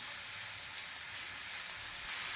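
Finely chopped ginger sizzles steadily in a hot pan while egg bhurji is being cooked, giving a constant, even frying hiss with no break across the short stretch and no voices over it.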